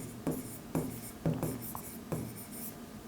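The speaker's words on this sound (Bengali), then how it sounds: "তাহলে লিখব" A pen writing on paper in close, rhythmic strokes, about five scratchy bursts a half second apart, with no talk over them.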